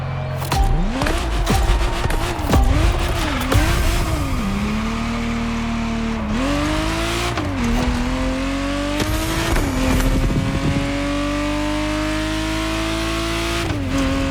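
A Ferrari Testarossa engine in The Crew Motorfest revs loudly and continuously, pitch climbing and dropping through gear shifts, with brief tire squeals and a steady high whine under it.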